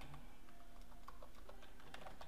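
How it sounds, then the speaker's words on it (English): Quiet keyboard typing, a steady run of soft clicks and taps close by, with no voices. "you gotta bear with my typing. It's pretty bad sometimes."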